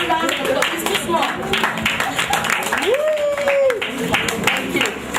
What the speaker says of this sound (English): Please, let's give this gentleman a resounding round of applause.